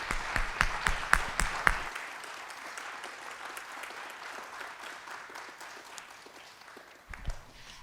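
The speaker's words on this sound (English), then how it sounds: "If we can offer Debra Pentecost one more round of applause." An audience at a community presentation gives a round of applause, dense clapping at first that thins into a sustained patter before a final few claps.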